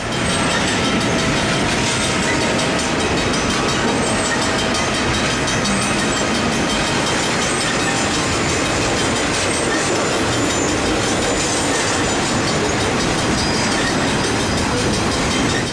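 A long Southern Pacific and Santa Fe freight train with helper units rumbles steadily past at close range over Tehachapi, wheels clattering and squealing on the rails with a constant heavy roar.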